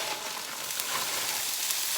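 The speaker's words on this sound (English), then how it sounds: "I'm going to put those, straight into the frying pan." Frozen seasoning blend vegetables sizzle loudly in an electric frying pan, a dense continuous close hiss with faint crackles and no talk.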